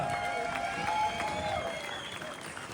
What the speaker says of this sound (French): Un tonnerre d'applaudissements pour le champion du monde.